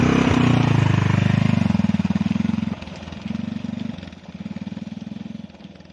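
An off-road motorcycle engine runs on a steep mountain descent, close and loud with a pulsing throb that revs, dips and picks up again in uneven surges, fading toward the end.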